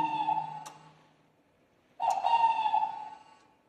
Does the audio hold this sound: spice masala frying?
no